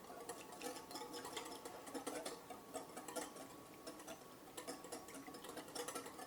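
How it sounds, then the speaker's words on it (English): A whisk beats vinaigrette seasoned with black pepper and salt in a bowl, giving fast, steady, close metallic clicking and rattling against the bowl that continues without pause. "Just give it all a nice little whisk."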